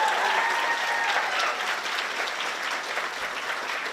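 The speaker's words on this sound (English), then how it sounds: "Can we get another round of applause for all of our amazing candidates?" A crowd at a community festival ambassador coronation applauds its candidates with loud, dense, sustained clapping that slowly tapers, a faint whistle or cheer rising briefly near the start.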